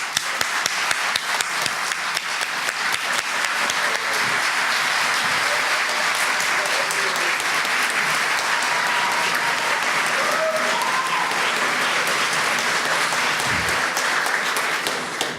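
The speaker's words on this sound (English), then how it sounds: "give them another round of applause" Sustained audience applause for the poets at a peace poetry contest ceremony, a dense, steady wash of many hands clapping close by for about fifteen seconds with faint voices mixed in.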